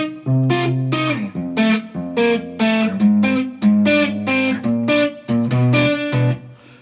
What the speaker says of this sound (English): My guitar is in standard tuning and I've just got a light bit of distortion on there.